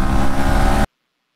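Bajaj Pulsar NS 125 motorcycles, 2024 and 2023 models, launching side by side in a drag race, a loud, dense engine roar that holds steady for under a second and then cuts off abruptly to silence.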